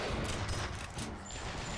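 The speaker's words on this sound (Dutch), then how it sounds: "Waar komen de schoten vandaan?" Gunfire in the video game Bioshock Infinite, a dense burst of shots crackling at moderate distance, steady through the short moment with no talk.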